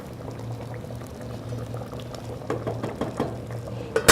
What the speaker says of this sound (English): Let it simmer for just a moment.